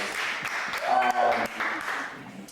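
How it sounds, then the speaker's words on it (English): A crowd at a live podcast show breaks into applause, a moderate burst of scattered clapping with voices talking and calling out over it. "Give yourself a round of applause."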